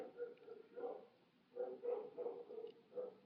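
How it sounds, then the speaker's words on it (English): A dog barks repeatedly outside in the background during a gouache painting session, faint muffled barks in short bursts, distant and quiet. "Excuse the dog in the background."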